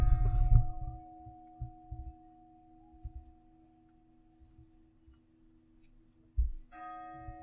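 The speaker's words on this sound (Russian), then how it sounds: "Там колокола." A church bell's tone hums and lingers quietly with low thumps underneath, then a fresh strike rings out near the end.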